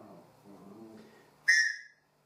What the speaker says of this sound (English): A whistle, a safety whistle, survival whistle.